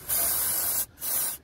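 Brake cleaner sprayed from an aerosol can during an oil filter change on a Fiat Egea, two close, loud hissing bursts, the first longer, separated by a brief pause.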